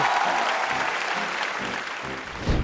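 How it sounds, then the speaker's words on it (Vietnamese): Studio audience applause at a Vietnamese masked-singing TV competition show, a steady loud wash of clapping holding for the full stretch with a brief swell at the end, low voices faintly underneath. "một tràng vỗ tay để cảm ơn phan ngọc lâu"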